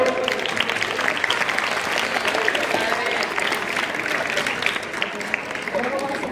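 Sustained applause from an audience at a school's annual prize-giving ceremony, dense and steady clapping filling the room, with voices faintly mixed in.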